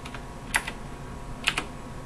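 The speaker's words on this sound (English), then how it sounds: "you can hear the relays clicking and clacking away to give me the right answer here" Relays in a relay computer click in two short bursts while adding binary numbers, with a faint steady hum between the clacks.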